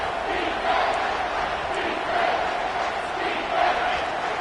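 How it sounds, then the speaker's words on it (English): A football stadium crowd at an NCAA game roars steadily throughout, a dense, loud wash of cheering with swelling peaks and no clear speech on top. "This crowd knows when to bring it."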